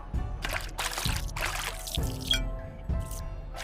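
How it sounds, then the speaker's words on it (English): Water scooped into a wok in repeated splashing pours, several distinct pours in a row, close and moderately loud, with brief pauses between scoops. "Place 5 scoops of water in the wok."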